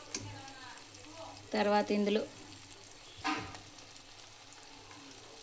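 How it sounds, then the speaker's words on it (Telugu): Three sliced onions frying in a pan for an egg fry, a faint steady sizzle running beneath a woman's brief speech. "మూడు ఆనియన్స్ని కట్ చేసి ఫ్రై చేసుకున్నాను ఫ్రెండ్స్. 6 గుడ్లకి 3 ఆనియన్స్ తీసుకున్నాను. ఇలా ఫ్రై చేసుకోవాలి."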